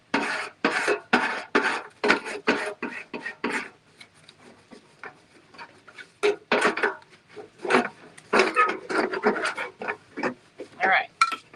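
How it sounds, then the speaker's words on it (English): Scraper rubbing and pressing along a wooden Dollar Tree birdhouse, heard as bursts of close, dry scraping strokes in quick clusters with a quieter pause in the middle. "I'm going to use my scraper to press up in there to make sure that is smoothed down"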